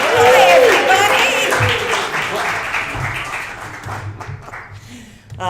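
Applause from an in-person audience at a live theatrical reading, dense clapping that rises at the start and gradually thins over several seconds, with voices and crowd noise mixed in.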